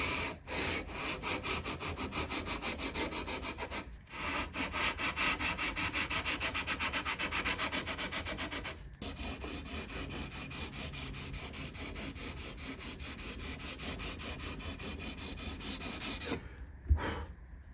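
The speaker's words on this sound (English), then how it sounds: "We're now in a place to start leveling the frets." A guitar's frets are leveled by sanding along the fretboard, a close, steady back-and-forth rasping rub with a few brief pauses.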